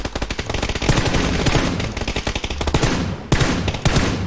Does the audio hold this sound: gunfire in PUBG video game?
yes